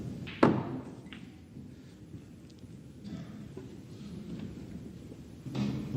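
Snooker cue striking a ball during a UK Championship match, a single sharp knock near the start, then quiet arena ambience.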